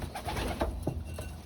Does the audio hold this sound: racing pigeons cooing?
yes